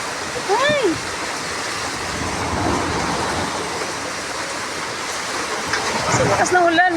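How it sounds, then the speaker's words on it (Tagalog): Heavy rain pours and floodwater rushes steadily during Typhoon Carina in the Philippines, a dense continuous wash close by, with excited voices talking over it in places. "Sa lakas ng ulan, my gosh."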